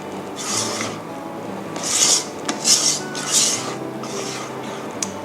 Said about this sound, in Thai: คนจนกว่าตัวเนื้อเค้กจะเนียนนะคะใช้เวลาไม่มากนะคะ